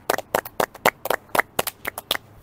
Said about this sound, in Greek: Ένα χειροκρότημα, ένα Έλα χειροκρότημα.